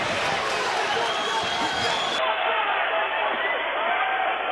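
A boxing arena crowd roars and cheers steadily through a heavyweight homecoming bout, a dense wall of voices that carries on without a break.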